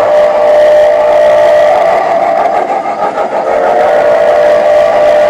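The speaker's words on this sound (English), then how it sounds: "Trains leaving the town now, San Antonio." A model train pulls out of a town on a model railroad layout, its motor giving a loud, close, steady droning hum for the whole stretch, with no voices over it.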